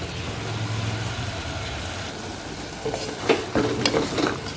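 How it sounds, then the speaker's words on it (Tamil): Salted chicken pieces sauté in a pan for a chicken gravy, a steady close sizzle over a low background hum, with a few sharper scraping stirs near the end. "சிக்கன் ஒரு 2 நிமிஷம் அப்படியே நல்லா வதக்கிக்கலாம்."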